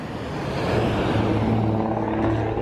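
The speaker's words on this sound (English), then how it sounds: "here's one of those buses." A city bus drives past on a street, a close, loud engine rumble swelling briefly as it goes by.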